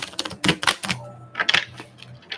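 A deck of tarot cards is shuffled in quick bursts of crisp snapping and riffling, separated by short pauses. A faint low hum runs underneath.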